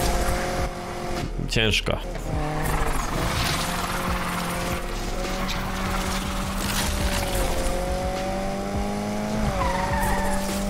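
A car drifts in NFS Unbound, its tires skidding and squealing in a sharp burst early on before the engine settles into a steady, loud drone with more faint tire scrubbing, and someone speaks briefly over it.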